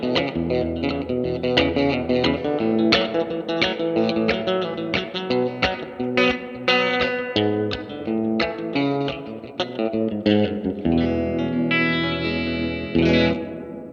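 An electric guitar, likely a Telecaster, played through a Line 6 Helix patch with plenty of reverb: bright, bouncy picked notes and chords in a steady rhythm, with a wash of ambience.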